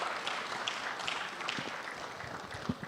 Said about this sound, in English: Another round of applause for my brother Uzoma's speech